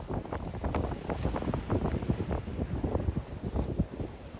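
Wind at Gabit Keni beach buffets the microphone in continuous gusty rumbles, loud and close, with no talk over it.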